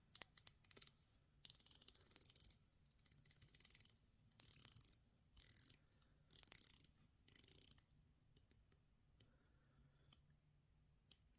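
Rotating bezel on a San Martin SN086 dive watch gives crisp ratchet clicks in quick bursts separated by short pauses, close and clear in near silence, with clicks thinning out toward the end.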